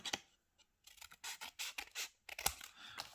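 Cutting a flap of origami paper with scissors: a quick series of close, crisp snips and papery scratches in irregular bursts, quiet and without talk.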